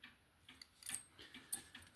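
Keys for an Ace padlock being handled up close, light metallic jingles and small clicks in a few short bursts against a quiet background.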